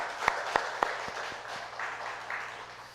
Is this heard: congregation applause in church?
yes